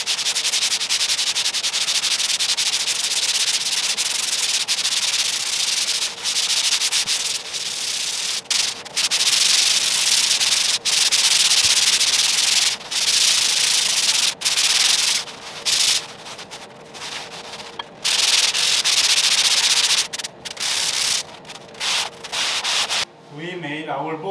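Hand sanding of surfboard rails with 120 grit sandpaper gives a loud, steady scratchy rubbing that runs in long strokes with brief pauses, close up and with no talk over it.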